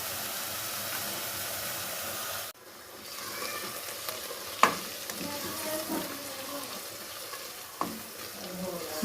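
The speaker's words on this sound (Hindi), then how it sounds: "जी लौकी हमारा भून रही हूँ मैं इसे।" Grated bottle gourd frying in a pan for halwa, a steady soft sizzle with the clack of a spoon stirring now and then, close and fairly quiet.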